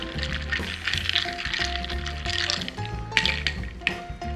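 Soda water being poured into a Negroni cocktail, a continuous close fizzing and liquid trickle with clinking ice over soft background music.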